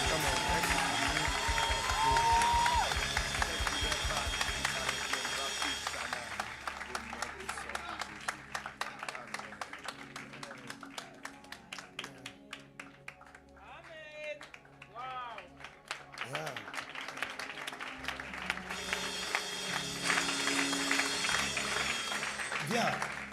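A church congregation applauds at a healing service with a dense, sustained patter of clapping that swells loudly at the start and end, while a voice speaks over the middle.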